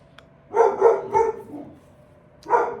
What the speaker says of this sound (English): I hope you can hear me in this video with the dog barking